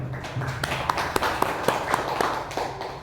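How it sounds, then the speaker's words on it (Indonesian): Scattered hand claps from an audience at a school discussion gathering, a few irregular, fairly soft claps over low room noise. "Untuk Bapak itu mari kita tepuk tangan."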